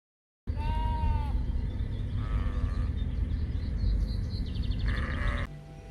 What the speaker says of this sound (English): Some suspicious-looking sheep in there.